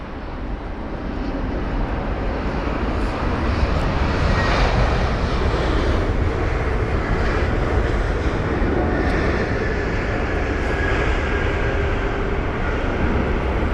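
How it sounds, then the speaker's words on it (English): An Airbus A321neo jet at London Heathrow, its engines producing a steady broadband roar that holds loud and even throughout, close and continuous with no voices. "Here's the A321neo."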